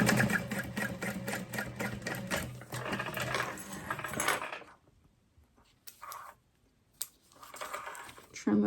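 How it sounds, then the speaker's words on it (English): A sewing machine stitches along the straight edge of a tote in a rapid, even mechanical chatter for about four seconds, then stops, followed by quieter handling noises and brief short bursts. "And we're just gonna sew along that straight edge."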